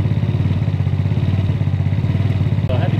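A Maddog 50cc GY6 scooter engine idles close by with a steady, rapid putter and a faint rattle, holding an even rhythm throughout, briefly broken by a single thump near the end.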